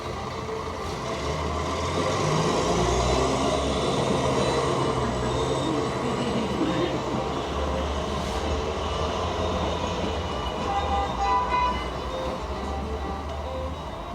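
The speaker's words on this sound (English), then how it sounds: "A series of train rides throughout the length of England." A train runs steadily along the rails on a long journey through England, giving a continuous loud rumble with a low rolling drone and a faint metallic squeal near the middle. No one speaks.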